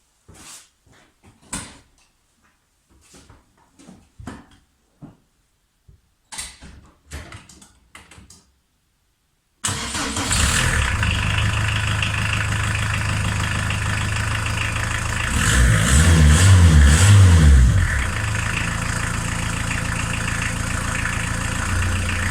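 A restored Volkswagen T3 Vanagon engine, already warm, cranks and catches after a few faint knocks and clicks, then idles loud and steady close by, briefly revving harder mid-run before settling back to a constant idle.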